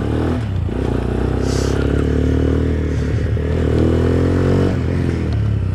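A Zongshen 200 Skyline motorcycle on a test ride, its engine droning loud and close with a rising, steady pitch as it accelerates, joined by faint rattles and wind noise.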